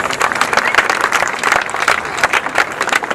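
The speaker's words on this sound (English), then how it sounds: "Let's give him a big round of applause." Sustained audience applause fills the space at a cultural event, a dense, steady wash of many hands clapping at close range that carries on evenly with a faint murmur of crowd voices underneath.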